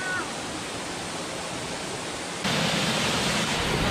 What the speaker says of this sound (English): if you guys could feel like the air blowing off from the bottom of this waterfall